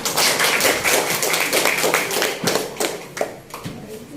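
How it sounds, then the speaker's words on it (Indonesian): A small classroom group clapping hands for a teacher's shared experience, close and uneven bursts of claps that thin out toward the end, with some faint voices underneath. "silakan kasih tepuk tangan"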